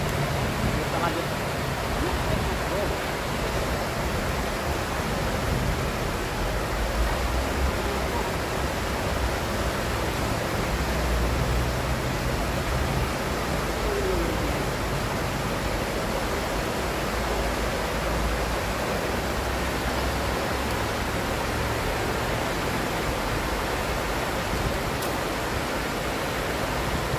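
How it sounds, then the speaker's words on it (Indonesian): A fast-flowing wild river rushes loudly and steadily as a dense, continuous roar of water close by, with a voice speaking faintly underneath. "kalau suaranya berisik, mohon maaf ya bro, itu airnya deras sekali mas bro ya"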